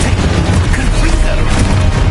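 Confringo blast spell exploding in Hogwarts Legacy, a loud, dense, booming burst that rumbles continuously and fills the short moment up close.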